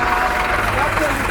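A heavy tractor working as a winch during village sugarcane harvesting gives a low, steady idling engine drone, with a person talking over it the whole time.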